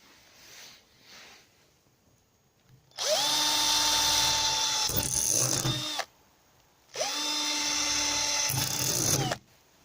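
A power drill drives screws into wood in a greenhouse in two close, loud bursts of about three seconds each, the motor whining up, steadying and stopping, with quiet gaps between.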